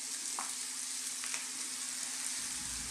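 Beef for carne guisada browning as all-purpose flour is stirred in, a quiet, even sizzle with a couple of light utensil scrapes, close and alone.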